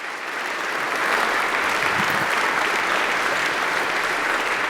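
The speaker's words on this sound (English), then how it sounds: "Let's give them all a round of applause." An audience claps for staff at a farewell address, a full, loud burst of applause that swells in within the first half second and holds steady throughout, with no talking.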